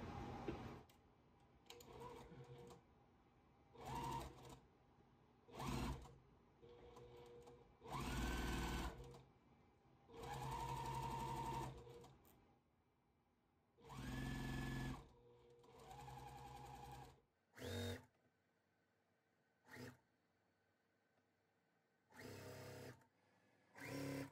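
A sewing machine stitches a four patch quilt block in about a dozen short, loud bursts separated by quiet pauses, each a fast buzzing run of stitches.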